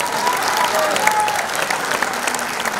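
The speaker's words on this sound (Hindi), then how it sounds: "सबसे जोरदार तालियां" A crowd at a celebration for a singer gives hearty, sustained applause, many hands clapping in a steady, full roar, with faint voices and a few thin tones threaded through.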